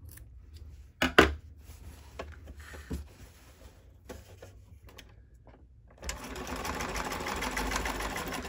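A sewing machine backstitches a seam on boxer shorts. A few handling clicks and thumps come first, then the motor starts a steady, close whirring run to the end.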